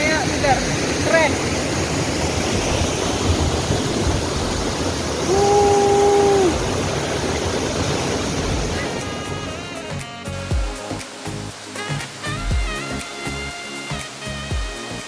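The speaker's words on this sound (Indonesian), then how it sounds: "Selain disebut air terjun Sringo, air terjun yang satu ini juga dinamakan air 7 tingkat karena memiliki 7 tingkat air terjun." Siringo waterfall, a seven-tiered falls, roars as a steady broad wash of rushing water, close and loud, with a brief tone cutting through midway and music-like rhythmic sounds taking over in the last seconds.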